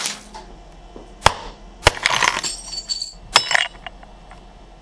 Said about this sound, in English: Let's test the glass breaker on the 916